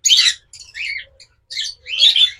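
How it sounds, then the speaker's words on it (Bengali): Opaline lovebirds, a non-ringed pair, give four or five sharp, raspy squawking calls in quick bursts, loud and close with short gaps between. "এগুলো কিন্তু opaline pair, non ring lovebird."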